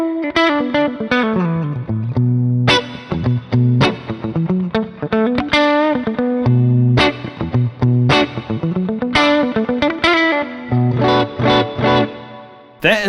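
Modified Les Paul electric guitar with both pickups in the middle position, played alone with distortion: quick picked riffs and chord stabs, loud and close, with short gaps between phrases.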